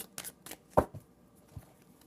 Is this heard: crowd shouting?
no